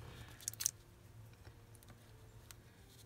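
Scissors cutting around a Project Life card for a junk journal embellishment, a few quiet close snips and clicks early on, then soft faint rustling.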